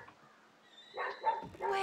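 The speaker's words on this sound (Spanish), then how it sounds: "El perro del vecino ya está tocando pelotas." A neighbor's dog barks and yips in short, faint bursts in the background over a quiet indoor hum, with a voice speaking.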